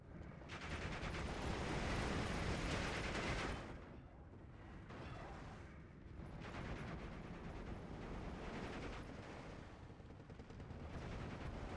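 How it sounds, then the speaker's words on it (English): Sherman tank fire tears into infantry in Steel Division 2, a dense, continuous barrage of gunfire and booming shots with brief dips, loud and sustained throughout. "Sherman eliminating infantry"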